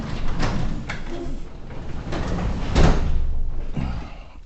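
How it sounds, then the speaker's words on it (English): A stuck garage door closes slowly, giving a steady loud rumbling, grinding roll with occasional clunks throughout, close by and without talk. "we're gonna close this door because we do not want to lose the tension while it closes"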